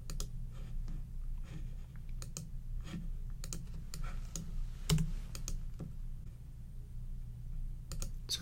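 Soft computer clicks and taps on a desk, a steady scattering of light, close clicks spread through a quiet room with low background hum and no speech.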